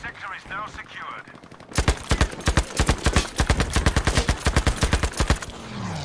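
Automatic rifle fire in a Battlefield 4 / Battlefield V match rattles off in a long, steady run of sharp, close shots after a brief quieter lead-in, each report loud and evenly spaced.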